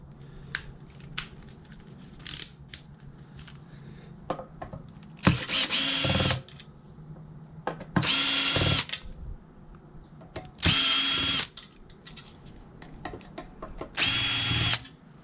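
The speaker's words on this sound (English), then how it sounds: "Gonna have to readjust my screwdriver here." A power screwdriver unscrewing screws from a remote radio unit during a teardown: four loud, steady whirring bursts of about a second each, separated by quiet clicks and handling noise.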